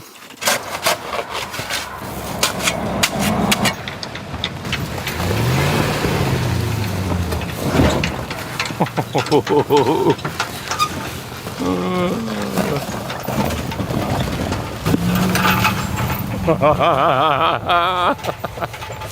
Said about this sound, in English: we're gonna drive over this here berm, right over that bag of poo, and go off to the left down there